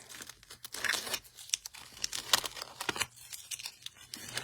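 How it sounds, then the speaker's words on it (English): Tape is torn off a roll and pressed onto the back of stencils in quick, crinkly bursts, a series of sharp rips and soft crumpling, close and fairly quiet. "let's put some new tape on the back of these."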